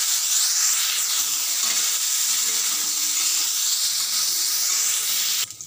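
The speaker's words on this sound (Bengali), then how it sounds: "এবারে দিয়ে দেবো ফুলকপিগুলো," Cauliflower florets fry in hot oil in a wok, giving a loud, even hiss and sizzle that runs throughout and cuts off abruptly near the end.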